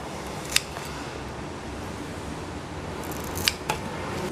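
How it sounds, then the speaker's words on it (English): Scissors snip into a plant's trunk while it is being divided for repotting, giving two or three sharp, close clicks spaced apart over a steady low background hum, with no talking. "It's going to cut the trunk into half and get them potted up individually"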